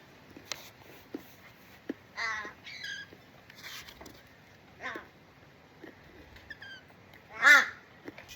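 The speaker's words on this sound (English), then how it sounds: "Look at you, spoilt little crows." Crows caw repeatedly nearby in a string of harsh, raspy calls spread over several seconds. A louder caw comes near the end, and light taps and clicks sit between the calls.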